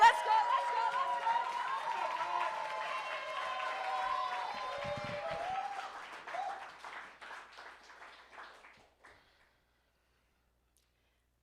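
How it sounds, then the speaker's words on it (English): Audience at a Canadian poetry slam applauding a poet after her scores: dense clapping mixed with cheers and whoops that gradually thins to scattered claps, then silence. "Keep that applause going for Chantel DC"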